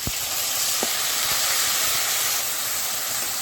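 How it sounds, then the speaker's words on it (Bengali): Onion paste hitting hot oil for a spicy crab curry gives a loud, steady hiss and sizzle filling the whole clip, with a few brief clicks near the start. "দিচ্ছি পেঁয়াজ বাটা"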